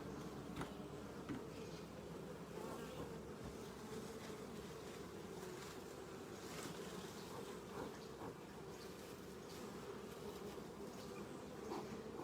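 Honey bees buzz around a hive outdoors, a dense, continuous droning hum from many insects close by, steady in level for the whole stretch with no talking.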